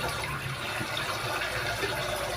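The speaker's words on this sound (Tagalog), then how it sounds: "Kunting tubig lamang guys ang ilalagay natin dito." A little water poured into a cooking pot holding eggplant and bitter melon, a steady close splashing trickle running unbroken through the whole stretch with no talk over it.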